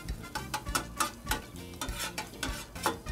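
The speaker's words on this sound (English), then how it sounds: "So we stir these up, mix them up, scramble them up" Eggs are scrambled on a Blackstone 22-inch griddle for a breakfast burrito, a spatula scraping and stirring in quick rhythmic strokes over a steady sizzle, close by with no voices.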